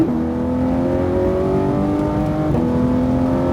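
A car accelerates on a driving track with a steady, loud engine drone rising in pitch, a brief dip near the end as the revs shift, then continuing strongly.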